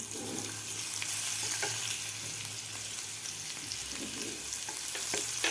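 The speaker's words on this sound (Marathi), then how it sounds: "लसूण सुद्धा आपल्याला थोडासा फ्राय होऊ द्यायचा आहे" Crushed garlic frying in oil with cumin and peanuts for a raw mango chutney, a steady bright sizzle with occasional stirring scrapes and taps in the pan.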